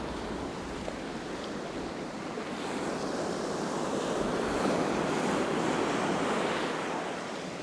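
Strong wind blowing sideways across a fishing beach as surf crashes and washes in a constant loud roar, with heavy wind buffeting on the microphone and no voices.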